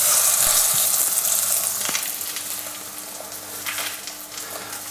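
A piece of lamb sears in a hot pot for a slow-cooked rosemary garlic dish, giving a loud, close frying sizzle that hisses strongly and fades slightly over a few seconds.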